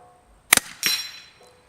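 Two air rifle shots at metal squirrel targets about 50 yards away, each a sharp crack, the second followed by a brief ringing metallic ping that fades out quickly, with no talking.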